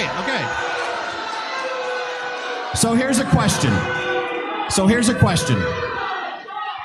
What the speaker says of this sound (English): They're booing him.